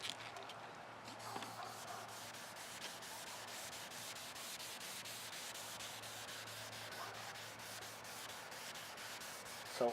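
Steady wet-sanding scratch on black BMW paint, a continuous soft abrasive rubbing that holds an even level for the whole stretch, close up with a brief louder scuff at the end.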